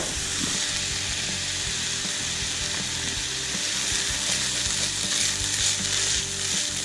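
Egg fried rice with soy sauce sizzles loudly and steadily in a hot pan while chopsticks stir it, a dense continuous hiss with faint knocks underneath.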